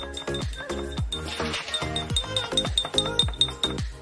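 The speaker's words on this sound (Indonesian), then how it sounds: "Nah di sini juga kelihatan ya, kalau ini kita aduk." A spoon stirring a solution in a glass makes steady, rhythmic clinks against the glass, bright repeated taps roughly every half second, close and clear.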